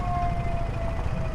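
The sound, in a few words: ambulance siren on a stuck ambulance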